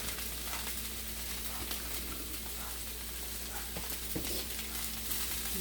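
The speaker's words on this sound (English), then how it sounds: "So we'll go ahead and throw that broccoli in there and let that saute down" Broccoli sautés in a hot pan with a steady, close, dense sizzle that runs unbroken throughout, while a few faint scrapes and knocks show through.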